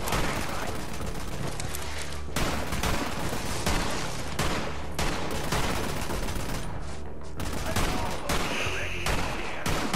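Rapid gunfire from a gun in Borderlands 3 rattles nonstop in dense bursts, loud and close, with brief gaps between volleys and faint game sounds behind.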